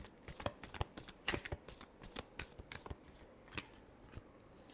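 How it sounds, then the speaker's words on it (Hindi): Tarot cards being shuffled by hand, a quick run of soft riffling slaps and papery flicks in an irregular rhythm, close and quiet with no talking. "Last shuffle."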